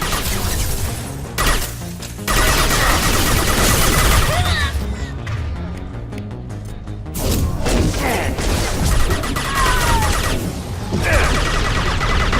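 Heavy gunfire in Mass Effect 2, a dense, loud, continuous barrage of shots and impacts with crashing debris, filling the whole stretch with only brief dips.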